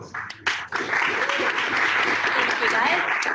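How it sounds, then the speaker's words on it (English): An audience at a Toronto hackathon in 2019 breaks into applause: dense, steady clapping from many hands that swells after a short start and holds at an even level through the end. "Round of applause."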